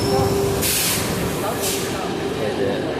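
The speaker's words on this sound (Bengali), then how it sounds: "দুইটা ট্রেন একসাথে আসলো" Two bullet trains arriving at a station in Italy rumble and hiss nearby with two bursts of brake-like spray, a steady mechanical roar underneath throughout.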